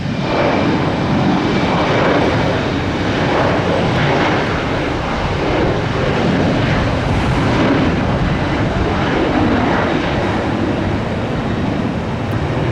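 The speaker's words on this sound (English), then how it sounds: "Well, that's a flat takeoff." An airliner takes off from Tampa airport, its jet engines producing a loud, continuous broadband roar that holds steady throughout with no talk over it.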